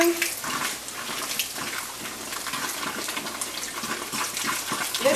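Coke is poured down a sink drain in a steady, splashing stream of liquid that runs continuously for several seconds, close and moderately loud, with no talking.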